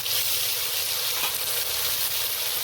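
Whole cumin seeds and ginger-cumin paste hit hot oil for a mustard-poppy bhola fish curry, giving a loud, steady, close sizzle with a constant frying hiss and no talk.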